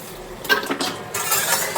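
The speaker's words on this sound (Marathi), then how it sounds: "आता एवढे भांडे घासून घेते, मग आराम करते." Dirty dishes and pots being scrubbed at a home sink, with clinks of utensils and scraping in short, close bursts, moderately loud and with no talk.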